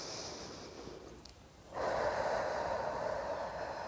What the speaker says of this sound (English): we're going to take a deep breath in through our nose